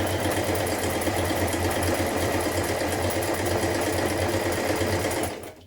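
A sewing machine stitching a buttonhole bar on a shirt, a rapid, even, close mechanical whirr and needle chatter running steadily before stopping abruptly at the end, no voices.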